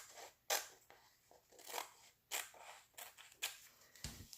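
Scissors cut paper along a 6x6 guide, a series of crisp close snips and rustling slices in an uneven rhythm, about seven cuts spread over several seconds.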